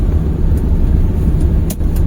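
A Maruti 800 car overtakes in third gear on a rainy road, its engine and tyre noise forming a steady, loud low rumble with a brief whoosh of passing traffic near the end.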